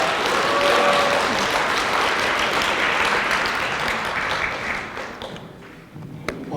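Lecture audience applauding in a hall, a loud, dense burst of clapping that holds steady and then tapers off near the end, with a single sharp tap at the close.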